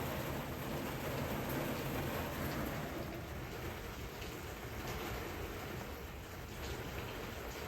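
Heavy rain falls outside with a dense, steady hiss while an overflowing rain gutter adds to the wash of water, faint and unbroken with no voices.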